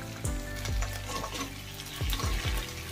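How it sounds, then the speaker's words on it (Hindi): Ginger paste frying in a pan, a bright crackling sizzle with a few sharper spatters and scraping stirs, fairly quiet and close with no talk. "अदरक का कच्चा स्मेल जाने तक फ्राई कर लूंगी"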